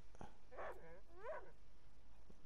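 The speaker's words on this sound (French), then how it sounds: "Vous entendez le chien, il peut être casse-couille." Dog in a survival video game set at a military post, giving two short whimpering yips about a second apart, fairly faint and alone over a steady background hum.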